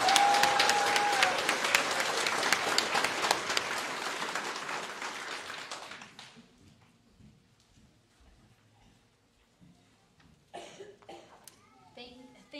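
An audience at a 2022 community college graduation ceremony bursts into sustained, loud applause that fades after about six seconds, then scattered voices and a few children's sounds follow in the quieter hall.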